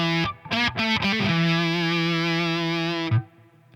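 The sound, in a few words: Tone Bender 2 fuzz pedal on Gibson SG guitar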